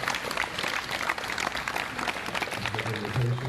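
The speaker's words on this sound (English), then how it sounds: "Please give her a round of applause." An audience applauds a singer at a community event, a steady wash of many hands clapping at moderate distance, with a low voice or hum creeping in near the end.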